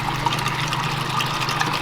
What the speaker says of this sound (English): put half your product in or half your water in, add your product, and then go ahead and top it off